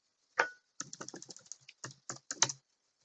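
A password is typed on a computer keyboard in a quiet room: one sharp keystroke, then a quick run of soft, close key clicks with short pauses between them.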